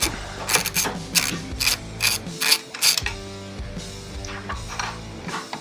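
Screws being backed out of the turn signal bracket on a Harley-Davidson Street Glide with a ratcheting tool, close, loud clicking bursts in quick irregular runs over a mechanical background.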